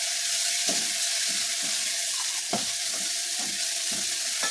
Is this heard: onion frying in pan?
yes